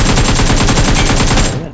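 Rapid automatic gunfire from an enemy in the PUBG video game, a loud, close, sustained burst of evenly spaced shots that cuts off abruptly near the end.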